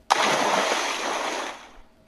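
A forklift in a Batman video game plunges over an edge into water, giving one sudden loud splash that washes out into a fading rush of spray over about a second and a half.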